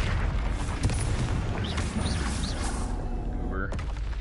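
A Confringo spell goes off in Hogwarts Legacy: a fiery blast boom over game noise, with a few bright magical chimes after it and a second burst near the end. No talking.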